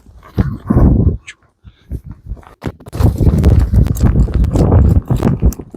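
A bay horse with a good ambling gait, at a horse market in Kairagach, clip-clops in quick, uneven bursts of hoofbeats on hard ground, loud and close. A dog may also be audible among the hoofbeats.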